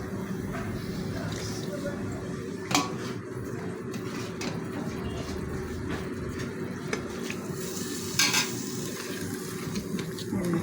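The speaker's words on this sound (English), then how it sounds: "Keep stirring until we have that uniform gravy that we want." Goat meat gravy being stirred in a pot, a steady low simmering bubble with occasional spoon clinks and scrapes against the metal, a quiet continuous kitchen sound throughout.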